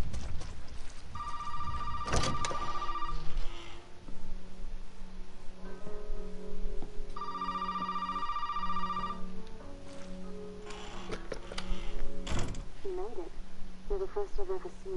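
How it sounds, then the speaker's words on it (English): A telephone rings twice in Resident Evil 7, each burst a steady electronic trill lasting about two seconds, separated by a pause, with game ambience and a low hum continuing underneath and occasional sharp thuds. "I hear the phone ringing"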